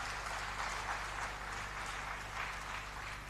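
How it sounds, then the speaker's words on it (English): Audience applause fills a conference hall, a steady, dense wash of clapping that holds at an even level throughout, with a low constant hum beneath. "I think they deserve a better clap than what we've done."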